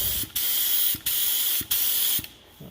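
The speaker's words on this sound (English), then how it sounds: "Make a few test sprays" A paint spray gun fires three loud, steady hissing bursts of about half a second each, separated by brief gaps, followed by a fading fourth spray, close and alone.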